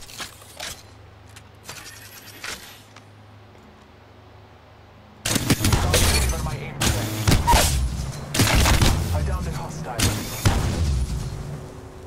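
Rifle gunfire in the video game Apex Legends, a quiet opening with a few faint shots, then loud rapid bursts of automatic fire and impacts, with a player talking in between.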